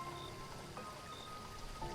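Heavy rain pours during a stormy rainy-season night in a village, a steady, close hiss of drops striking surfaces with faint tonal hum in the background and no voices.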